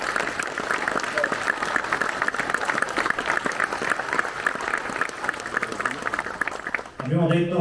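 Sustained audience applause at an outdoor alpine veterans' gathering in the woods, dense and even for about seven seconds before giving way to someone speaking.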